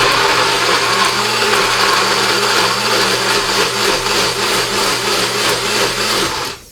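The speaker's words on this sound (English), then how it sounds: "I have here my blender" A kitchen blender whirs steadily at close range while blending green pea sauce, a loud continuous motor drone with a wavering pitch that cuts off abruptly at the end.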